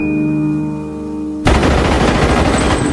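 In a film trailer, a sustained tonal hum gives way abruptly to a dense, loud burst of rapid gunfire that continues without pause.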